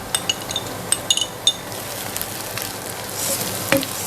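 Chopped green chilies fry in a pan for a Parsi-style kheema egg ghotala, giving a soft, steady sizzle with a few sharp clinks of a utensil against the pan early on.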